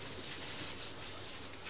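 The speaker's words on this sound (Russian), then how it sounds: "Так, опять берем яйцо, протираем." An egg being wiped dry with a cloth before dyeing gives a soft, steady rubbing and swishing that runs unbroken for under two seconds, with no voices.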